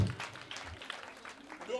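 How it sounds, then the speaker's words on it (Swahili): A congregation breaks into brief applause for the Lord, a short patter of many hands clapping under a speaking voice. "Tumpige Bwana makofi"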